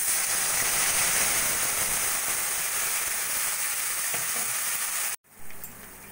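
Tomato, ginger and green chili paste hits hot oil with cumin, bay leaf and dried red chili, giving a loud, dense, steady sizzle up close that cuts off abruptly near the end and resumes faintly.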